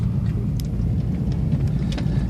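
A car rolls past on a cold road, a steady low rumble of engine and tires with faint clicks and creaks from a worn rear strut.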